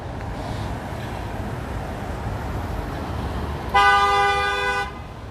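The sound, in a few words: fire truck air horn blasting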